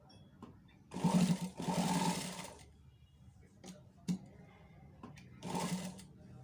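A sewing machine stitches a high neck in short bursts, three main runs of rapid mechanical chatter separated by pauses with faint handling sounds, close and moderately loud.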